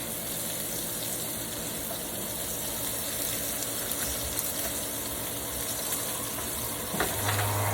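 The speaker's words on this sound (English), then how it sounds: "plenty of bacon grease. We got lots of it. We really probably didn't need that much, so it's kind of like frying these." Loud, steady sizzling of potatoes frying in bacon grease, a constant crackling hiss with a brief louder scrape near the end.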